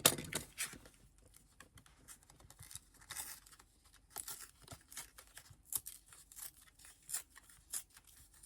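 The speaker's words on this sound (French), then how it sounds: "on va déjà ouvrir notre petite carte pour la déchirer" A small paper scrapbooking card is torn open by hand, producing faint, close, irregular ripping and crinkling bursts spread over several seconds in an otherwise quiet room.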